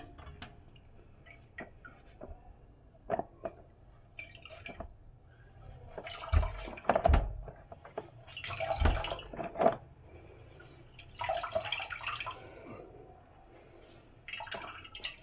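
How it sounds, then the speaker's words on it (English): Scattered drips and small splashes of coconut milk squeezed from grated coconut falling into a bowl, irregular and fairly quiet, with faint handling noises between them. "the second squeeze, I'll add a little bit of water"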